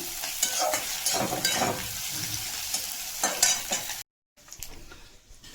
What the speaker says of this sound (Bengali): একটু পাঁচ ফোড়ন দিলাম, একটু রসুন ফোড়ন দেবো